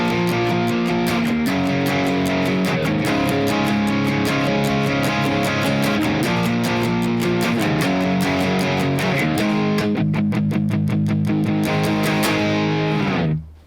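Loud distorted electric guitar plays a song's pre-chorus: steady chugging palm-muted chords that build, then several sharp separate strums before the sound cuts off abruptly.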